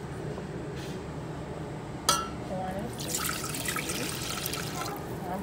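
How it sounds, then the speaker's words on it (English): Heinz apple cider vinegar is poured into water for a pickle brine, starting with a sharp clink and then a steady close splashing trickle over a low background hum. "we're just going to balance it out with the vinegar, and I'm using the Heinz apple cider vinegar"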